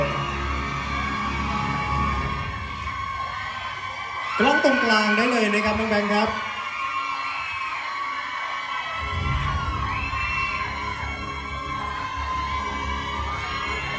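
A crowd cheers and shouts at an award ceremony in Bangkok, with excited voices and whoops swelling briefly in the middle, while an announcer speaks over the noise throughout.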